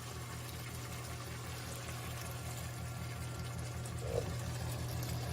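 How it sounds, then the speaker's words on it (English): Water, 200 ml, is poured into a pasta sauce for Greek-style baked penne with bacon, making a soft, steady trickling wash over a low hum, faint and continuous. "now we're going to add in our 200 ml of water"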